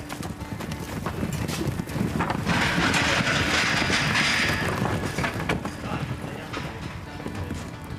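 Captured wild mustangs being sorted, their hooves clip-clopping steadily over a windy outdoor pen with a dense, continuous drumming of many animals moving nearby.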